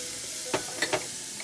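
Onion sizzles gently in a hot pan under a steady hiss, with a few brief scrapes or clinks of stirring, close but fairly quiet.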